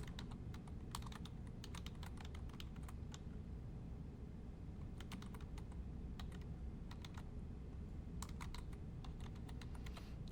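Bursts of rapid key clicks from a computer keyboard as notes are typed, pausing briefly between runs and resuming, close and fairly quiet over a constant low hum.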